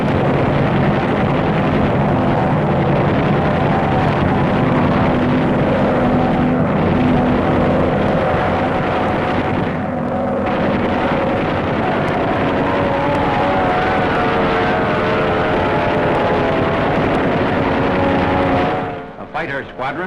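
Droning propeller engines of a Focke-Wulf 190 fighter mounted atop a Junkers 88 twin-engine bomber, a loud continuous roar with a steady hum, while someone narrates throughout.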